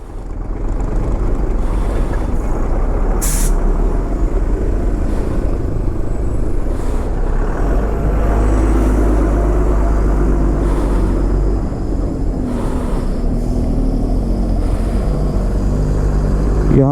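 Heavy road traffic stuck in a long jam, a steady loud rumble of idling engines close by, with brief hissing bursts like air brakes rising above the drone.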